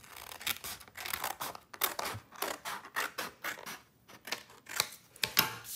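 Scissors snipping through a folded paper circle, with repeated crisp, close cutting strokes in a steady rhythm of blade closures and paper rustle, alone with no talking.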